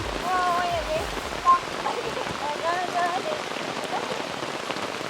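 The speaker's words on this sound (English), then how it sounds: "It's raining, it's pouring" Heavy rain pours steadily at a cave site in a very wet village, a dense continuous hiss of drops on surfaces, with faint voices and a few high tones over it.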